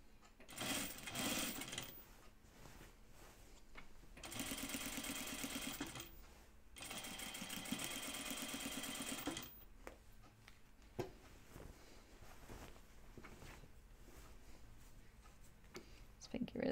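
A sewing machine stitches a Wiksten Unfolding jacket in bursts, its rapid needle chatter running for a couple of seconds at a time with quiet pauses between, fairly faint and close, while a person speaks between runs.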